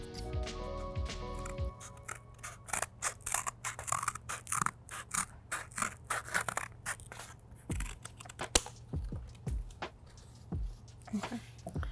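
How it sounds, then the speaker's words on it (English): Scissors snip through a piece of cardboard to shape a square, a close series of quick crisp cuts and scraping rustles in irregular bursts against a faint steady hum. "take this piece of cardboard and let's cut it into a nice even square"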